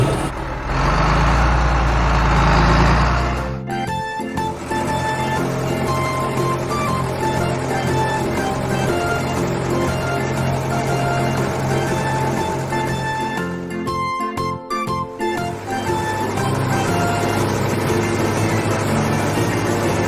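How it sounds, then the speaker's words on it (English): A wheel loader clears piles of rocks, its engine a loud, steady diesel drone with tonal whine, preceded by a brief rumbling burst at the start and a momentary dip midway. "Let's ask the wheel loader to take them away and let's see what's there."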